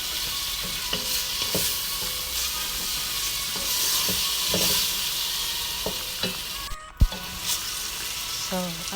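Tomato paste is stirred through in a hot frying pot for a vegetable, rice and lentil dish: a steady sizzle broken by scraping spoon strokes and a sharp clunk near the end, close by with no voices.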